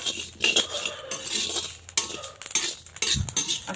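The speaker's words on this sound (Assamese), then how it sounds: "এয়া ভাজি আছে বৰ্তমান" Rice dry-roasting in a pan while being made into laru pitha for Bhogali (Magh) Bihu: a steady gritty rattle and scrape with sharp clinks from stirring against the pan, close and continuous, with no talking.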